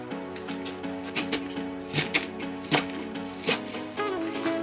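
A knife chops napa cabbage on a board for kimchi, with irregular sharp thuds landing every half second or so over a steady tonal background, close and fairly loud.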